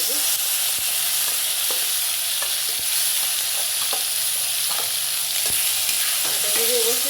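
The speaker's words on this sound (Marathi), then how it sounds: "त्याच तेलामध्ये ही कांदा आणि टोमॅटो घेतलं होतं याची पेस्ट करून आता ही फ्राय करून घेतली" Onion and tomato paste fries in hot oil for an egg curry masala, a steady broadband sizzle with occasional spoon scrapes and clicks from stirring, close and fairly loud throughout with no talking.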